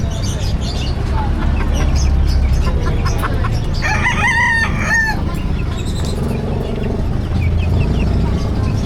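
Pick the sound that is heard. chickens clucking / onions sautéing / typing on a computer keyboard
chickens clucking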